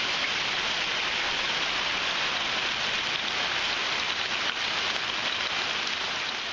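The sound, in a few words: quarter-sized hail falling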